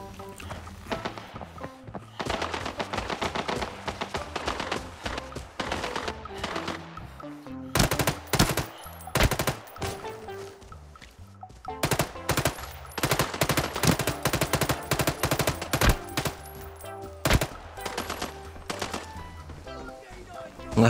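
Rapid automatic gunfire from a bot in the shooter game Arena Breakout, sustained bursts close and loud, with brief pauses between volleys and faint talk underneath.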